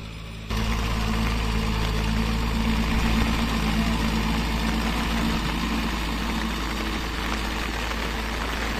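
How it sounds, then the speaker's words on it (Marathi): A tractor churns mud in a flooded rice paddy in the Konkan during the rainy planting season, giving a steady, unbroken engine drone from a moderate distance. No one speaks. "तिकडे ट्रॅक्टर चिखली करतोय."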